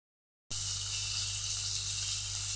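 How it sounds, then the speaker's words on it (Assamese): Fish for an Assamese sour fish curry fries in hot oil, a sudden, steady, loud sizzle that starts after a short silence and continues evenly, close up and with no voices. "এতিয়া মোৰ মাছ কৰকৰীয়াকৈ এনেকৈ ফ্ৰাই কৰাও হৈ গৈছে।"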